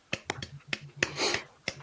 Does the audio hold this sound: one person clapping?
yes